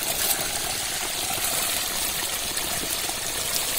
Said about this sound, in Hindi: यहां से निकलने वाला पानी गर्म पानी निकल रहा है।